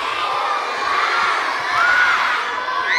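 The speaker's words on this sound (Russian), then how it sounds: "Ребята, давайте громко-громко позовем." Children at a New Year's tree party shout together loudly calling for Ded Moroz, a dense, sustained crowd of young voices filling the room for the whole stretch.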